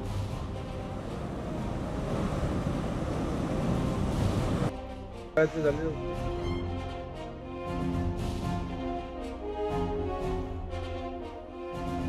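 Monsoon waterfall beside the Marleshwar temple in Ratnagiri district: a loud, steady rush of falling water for the first few seconds, then cut away to music.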